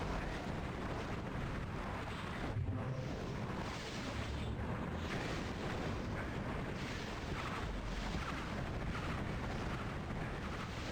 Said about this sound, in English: So it's like a short-range explosion, which sends out tracers.